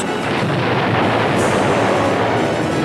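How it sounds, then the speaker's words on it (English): A tremendous bomb explosion aboard the battleship Arizona at Pearl Harbor as its forward magazines ignite, heard as a sustained, loud, dense roar of blast and rumble with no speech. "Forward magazines on the battleship Arizona suddenly ignite, resulting in a tremendous explosion and a gigantic fireball."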